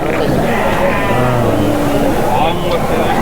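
Sheep and lambs bleating at a crowded sheep market in Mudhol, several overlapping wavering bleats close by over a dense din of voices and engine noise.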